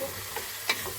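Onions frying in a pan for biryani give a steady soft sizzle with a couple of brief brighter spatters and stirring scrapes, close and alone without any voices.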